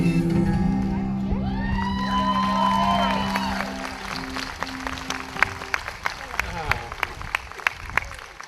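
A street-magic audience at a canal festival applauds, a steady wash of clapping and cheers that opens over lingering sung guitar notes and thins into scattered louder claps near the end.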